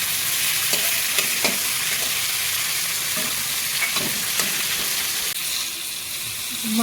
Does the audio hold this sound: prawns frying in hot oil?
yes